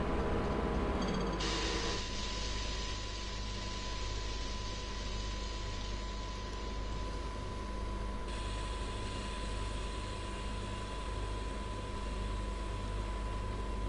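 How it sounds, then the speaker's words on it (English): A container train driven in the Train Sim World game, with a steady loud rumble and hiss of engine and rolling noise, a constant whine running throughout and a shift in the noise partway through, with no talk. "Noisy train for sure, but it's nice."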